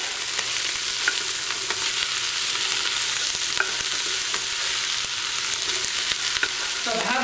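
Vegetables sauté in a stock pot over high heat with a dense, constant sizzle, broken by scattered clicks and scrapes of stirring; no voices.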